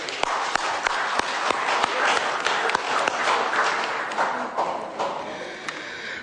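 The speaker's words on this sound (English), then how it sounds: "Could we have a round of applause for Te Hirata?" Applause in parliament for a guest seated in the gallery, sustained clapping from a chamber full of people with sharp individual claps and desk taps standing out, steady throughout and easing slightly at the end.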